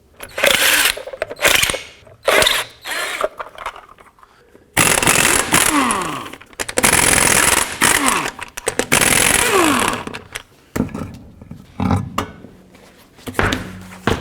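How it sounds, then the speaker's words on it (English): Lug nuts being removed from a 2007-14 Chevy Silverado front wheel, heard as bursts of loud mechanical whirring and ratcheting from a power tool, separated by quieter gaps with clanks and handling noises. "take off the lug nuts, and then remove the wheel"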